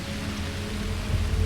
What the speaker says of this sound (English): it has to be raining